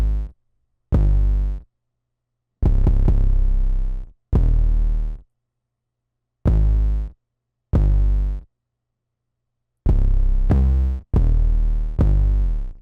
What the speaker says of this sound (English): we have the second 808 pattern